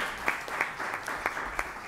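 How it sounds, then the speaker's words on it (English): Applause from a panel audience in an afternoon student debt forgiveness session: brief, moderately faint, a steady wash of clapping with a few sharper individual claps standing out, no voices over it. "can we give ourselves a round of applause for being here this afternoon?"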